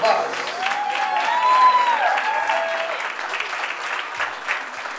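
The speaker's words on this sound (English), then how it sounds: "Let's give our lovely Quinceañera girl a big round of applause." Guests at a quinceañera party at the Chelmsford Elks applaud the birthday girl: a dense, loud, sustained round of clapping with faint cheers and whistles riding over it.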